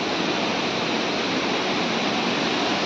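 Chatikana waterfall below the Niyamgiri hills roars as a dense, unbroken wash of rushing water, loud and close, steady without any pauses and with no voices over it.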